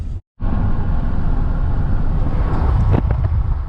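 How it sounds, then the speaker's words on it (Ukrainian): A vehicle drives along a dusty dirt road, a steady loud rumble with wind buffeting that cuts out briefly near the start, then resumes continuously with a rattle or thump near the end. "По ґрунтовці їду, пилюка летить"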